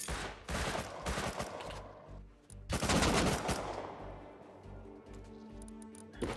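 Rapid AK rifle fire in the survival game Rust rattles out in dense automatic bursts, breaking off briefly and then resuming in a second sustained volley, with scattered single shots trailing after.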